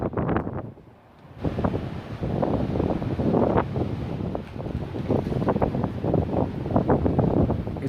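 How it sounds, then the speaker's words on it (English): Strong wind blows outdoors at the abandoned Kings Park Psychiatric Center, roaring and buffeting loudly against the microphone in continuous gusts, with a brief lull near the start. "it's very windy day."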